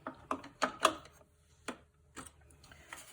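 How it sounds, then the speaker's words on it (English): A VIN etching stencil printer takes in 2-inch stencil material from a roll, giving several sharp mechanical clicks and ratcheting snaps in uneven bursts, close and clear against a quiet room. "We're going to slip this into the printer here."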